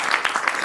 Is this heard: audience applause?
yes